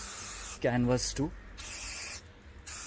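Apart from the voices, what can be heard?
aerosol spray being sprayed on car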